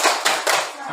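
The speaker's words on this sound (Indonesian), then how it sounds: "mari kita berikan tepuk salut dulu" A school class doing a rhythmic salute clap, a few sharp group claps in quick succession, loud and close in a classroom.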